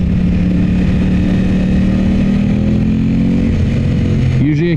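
An Aprilia RS 660 with a freshly installed UpMap runs loud and close under steady throttle, its engine drone slowly rising in pitch and then easing off near the end.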